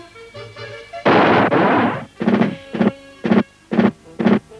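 Cartoon battle with cannon and gun fire: a few quiet pops, then a long loud blast lasting about a second, followed by five evenly spaced booming shots, each short and punchy, close and loud.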